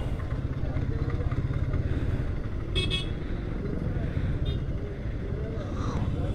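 Road traffic heard from a moving motorcycle, a continuous engine and wind rumble with a couple of brief horn toots from nearby vehicles, while a rider speaks over it.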